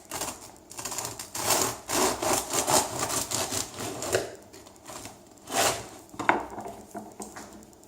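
A knife saws through a slice of crusty sourdough bread baked in a commercial deck oven, with repeated back-and-forth rasping strokes and crackling crust, close up and without talk.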